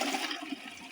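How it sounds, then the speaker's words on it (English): A newly plumbed-in toilet flushes for the first time, a close gurgling rush of water with rising and falling surges through the short span, no talking over it. "Let's just see if this toilet flushes before I..."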